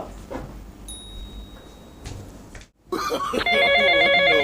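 A telephone rings in a home, its electronic bell tone starting after a brief silence and repeating loudly and steadily to the end, following some quieter indoor knocks and movement.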